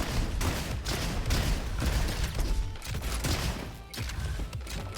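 Rapid bursts of gunfire from the Roboquest video game shooting at small enemies, with repeated staccato shots and booming impacts in quick succession at a fairly low level.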